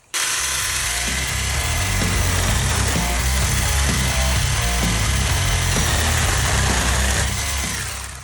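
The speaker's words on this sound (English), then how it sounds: "This 24-volt 𝐓𝐢 pruning saw is quite the little beast." A Sun Joe 24-volt cordless handheld pruning saw cuts through branches with a loud, continuous motor whine and rattling chain noise, close up and sustained for about eight seconds.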